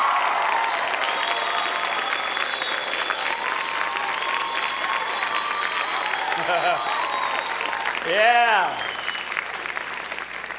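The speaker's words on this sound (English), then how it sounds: "We'll see how much you'll be clapping by the time I get done." Audience applause fills a hall at a talk on dating, steady dense clapping close by for several seconds with a brief cheer near the end and a short spoken word.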